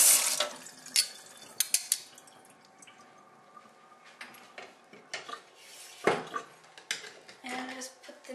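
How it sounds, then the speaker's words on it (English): Water runs and splashes in a kitchen sink as dishes, a knife and a cutting board are rinsed, with clinks of cutlery and pots, drips, and a few louder clattering knocks scattered through. "now we rinse in the sink"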